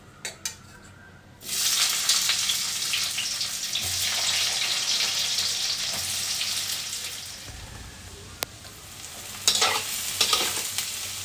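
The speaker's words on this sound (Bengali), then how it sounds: "সবার আগে পেঁয়াজটা ভেজে নেব।" Onions frying in hot oil and ghee give a loud, steady sizzle that starts abruptly after a quiet second and continues with stirring scrapes, a brief sharp clink and a late flare of crackling.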